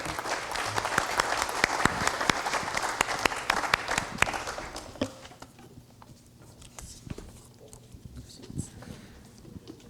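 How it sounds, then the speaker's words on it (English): Audience applause for a panel at a school board meeting, a steady round of clapping that fades after about five seconds into scattered claps and room noise with voices. "a great round of applause for our panelists"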